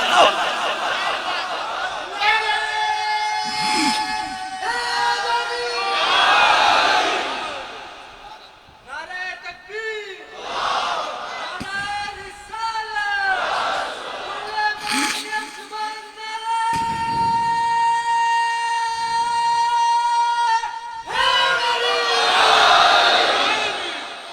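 A large crowd at a religious gathering chants slogans in loud, sustained shouts that rise and fall in waves, with a single voice leading between the chants.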